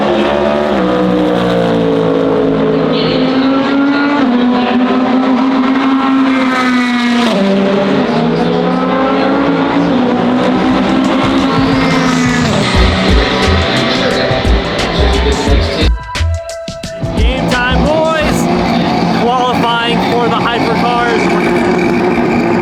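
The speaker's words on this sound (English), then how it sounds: "for now we can watch qualifying for the GT cars" GT race cars run in qualifying, their engines roaring loud and steady as they pass with rising and falling pitch, while a voice talks over them.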